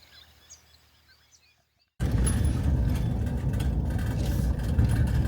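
A car engine hums steadily while driving into the abandoned uranium township of Mary Kathleen, beginning abruptly after a couple of seconds of near silence and staying loud and even to the end.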